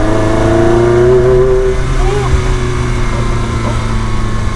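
A Ferrari 360 Spider with a gated manual gearbox, its engine droning loudly from inside the car as the revs climb and then ease off while driving.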